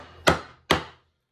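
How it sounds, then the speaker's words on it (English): Two sharp, solid strikes of a mortise chisel chopping a mortise in wood by hand, spaced about half a second apart, each a close, loud thwack with a brief decay and no talk. "I'll sort of grab the mortise chisel, straighten up what I need to, and then just get to chopping."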